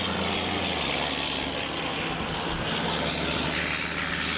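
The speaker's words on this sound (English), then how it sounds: "One of our Skyhawks coming back." An RNZAF A-4 Skyhawk jet approaches to land at Ohakea, giving a steady, loud, continuous engine roar with a faint rising whine, and no voices over it.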